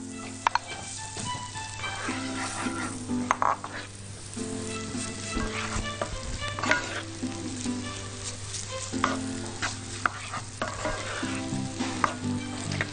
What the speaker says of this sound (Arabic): الزيت والسمنة يبتدوا يتقطحوا، ننزل بالبصل